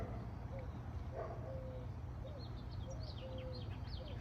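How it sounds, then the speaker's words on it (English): A dove calls at sunrise outdoors, soft repeated cooing notes at a distance mixed with faint chirps of other birds over a constant background rumble. "Listen, that is a dove."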